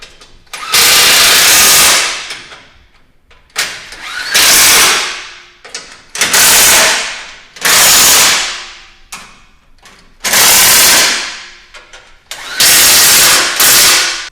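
A power tool drives a 17mm socket to tighten skid plate bolts during a BDS coilover lift install on a Toyota Tacoma, loud close whirring bursts repeating about six times with short pauses between.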